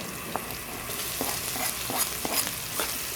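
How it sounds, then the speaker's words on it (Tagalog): Chopped garlic and ginger sauté in a hot pan for Filipino chicken curry, a steady sizzle broken by several spatula stirs and scrapes. "Tapos yung bawang, igisa natin dito."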